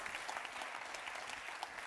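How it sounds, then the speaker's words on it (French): Applause from an audience at an evening hydrogen business and climate forum, a steady dense patter of many hands clapping throughout, fairly faint and distant, with no voices on top. "On peut encore applaudir, bah oui, bien sûr."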